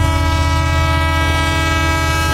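A train passing a railway crossing, loud and close, with a steady rumbling roar and a sustained tonal horn-like drone throughout, no voices.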